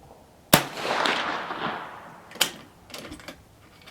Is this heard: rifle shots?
yes